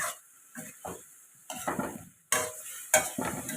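Pork stir-fries in a pan with chili and garlic, giving bursts of sizzling and scraping stirs in uneven strokes, close and growing louder, with short pauses between.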